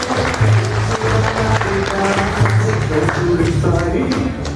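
Audience applause at a book presentation for an LGBT novel, a steady dense wash of clapping throughout, loud and close, with voices talking over it.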